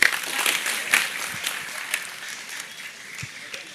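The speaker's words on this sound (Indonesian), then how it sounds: "Oke, tepuk tangan Pak Busro semuanya" An audience applauds Pak Busro at an evening Islamic gathering, a moderate, steady patter of hands that fades somewhat toward the end, with no voices over it.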